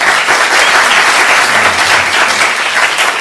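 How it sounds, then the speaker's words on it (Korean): Audience at a lecture hall talk breaks into loud, sustained applause, a dense, steady clatter of many hands clapping close by for about three seconds with no voices over it. "이럴 때 박수도 쳐주고 그러는"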